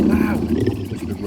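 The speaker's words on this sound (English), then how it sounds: "The tiger gave another thunderous roar." A tiger gives a deep, thunderous roar that swells and then fades, with a voice speaking at the same time.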